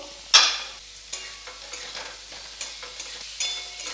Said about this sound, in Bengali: এবার একটু নাড়াচাড়া করব